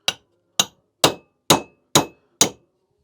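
Six evenly spaced metallic strikes of a hammer on a socket, knocking crank bearings out of a mini chopper engine during teardown. Each hit rings briefly and sounds close and loud, with no talk.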